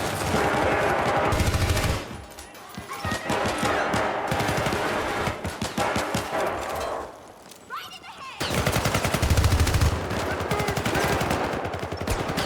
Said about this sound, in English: Different gun sounds when you're inside a storage container.